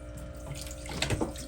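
Clean water refilling an aquaponic tank after the intake valve is reopened, a soft steady rush of flowing water close by, growing slightly busier toward the end.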